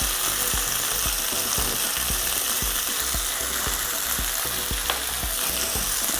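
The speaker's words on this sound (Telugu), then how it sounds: "అంతా బాగా కలిపెట్టుకోవాలి" Chicken curry with drumsticks and chili powder stirred in a pan, a regular rhythm of spoon scrapes and knocks over a constant loud sizzle.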